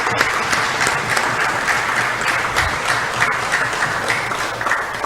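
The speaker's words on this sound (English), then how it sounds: "a round of applause for the service of Mr." Members of the National Assembly of Belize's House of Representatives applaud a departing member at his last sitting: brisk, sustained clapping from a roomful of people, even and close, with a few sharper individual claps poking through.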